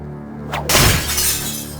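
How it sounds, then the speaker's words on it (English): Glass shatters in the Kiss: The Nightmare Child video game, a sudden loud crash with a bright spray of breaking shards that rings on over a low, steady game hum, with no one speaking. "Break the glass surrounding the items in the room ahead."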